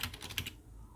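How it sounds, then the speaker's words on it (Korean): Quick keystrokes on a computer keyboard, about five light taps in a fast burst that then stops, close and quiet. "그리고 글자도 입력합니다."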